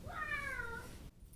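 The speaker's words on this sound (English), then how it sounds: "Did you hear that? That was my cat." A pet cat gives one drawn-out meow indoors, fairly close, clear and alone, trailing off and ending abruptly.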